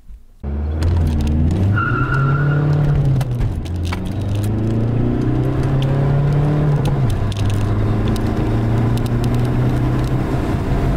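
A remapped VW Golf IV with a full tank and a passenger aboard accelerates hard from standstill to 100 km/h, its engine loud and close as it revs up, shifts gear with brief dips in pitch, and climbs again.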